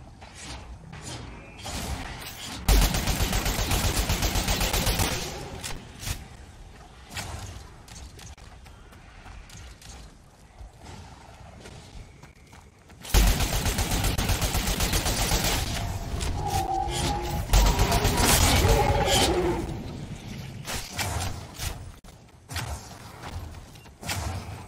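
Rifle gunfire in a Destiny Crucible match, two long stretches of rapid, dense shots, loud and close, separated by a quieter lull with scattered thumps and mechanical clicks, no talk.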